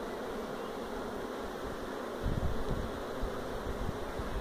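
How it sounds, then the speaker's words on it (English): Honey bees buzzing from an opened hive during a beekeeping inspection, a continuous faint drone that thickens into a louder, closer swell of buzzing partway through. "the blasted bees keep wanting to go up"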